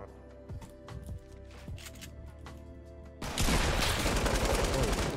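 Gunfire in Fortnite, scattered sharp shots early on, then a loud sustained barrage of dense firing in the final two seconds.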